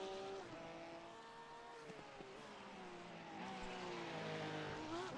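A Porsche race car in a sim racing game works through a lap, its engine note rising and falling through gear changes. The engine is fairly close but quiet, with no talk over it.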